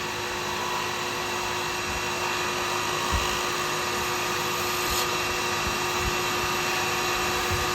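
A lathe spins a click pen blank under a smooth turning tool, giving a continuous high whine with a steady hiss and faint scraping ticks throughout.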